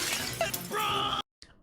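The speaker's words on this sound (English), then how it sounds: "Sure hope this glass doesn't break." Glass shatters sharply in a game aboard a Titanic-style ship, a bright crash with a scattering tail lasting about a second, then a brief silence and a faint final tinkle.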